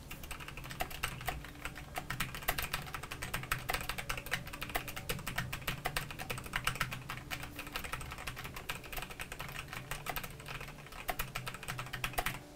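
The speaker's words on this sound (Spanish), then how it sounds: "tiene el sonido pues particular de un teclado mecánico" Fast, steady typing on a mechanical keyboard at a gaming desk setup, with dense, crisp clacking keystrokes close up, with no talking.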